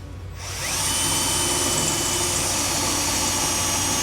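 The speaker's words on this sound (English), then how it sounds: "So something I like to do is I'll punch 1 hole, get a bolt loosely in there." Power drill punching a bolt hole through a Polaris Ranger 1500 Crew roof, starting abruptly and holding a loud, steady high whine with no talk.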